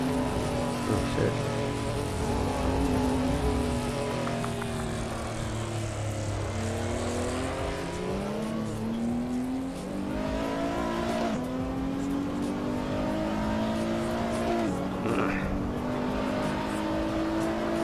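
A Nissan GT-R engine in the racing game Assetto Corsa drones loud and close for the whole stretch, its pitch climbing and dropping through repeated gear shifts and revs.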